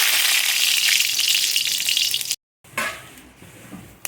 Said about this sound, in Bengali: এবার আমি কড়াইয়ে পরিমাণ মতো তেল দিলাম, তারপরে দিয়ে দেবো দুটো শুকনো লঙ্কা